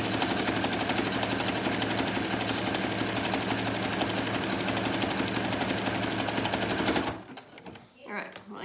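A sewing machine runs steadily while stitching a fabric face mask, a continuous close mechanical whir for about seven seconds that stops abruptly, followed by quiet room sound.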